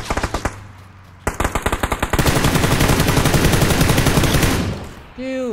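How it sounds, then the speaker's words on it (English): Gunfire aimed at vehicle tires in PUBG, loud rapid automatic bursts of machine-gun fire, first a few spaced shots and then a long sustained stream that ends abruptly. "Shoot the tires first, yeah?"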